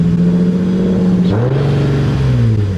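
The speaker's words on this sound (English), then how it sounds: "that turbo sounded nice" A turbocharged car engine with an upgraded turbo revs up close and loud, its deep drone holding, then dropping and climbing again midway.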